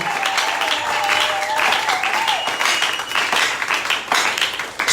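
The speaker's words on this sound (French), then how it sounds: "Nous allons la manifester par des acclamations." A church congregation applauds and cheers in sustained, loud clapping at a Sunday service, with voices raised in acclamation throughout.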